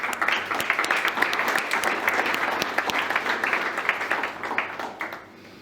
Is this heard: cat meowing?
no